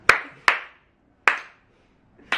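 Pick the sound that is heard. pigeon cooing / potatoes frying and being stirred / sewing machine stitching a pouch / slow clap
slow clap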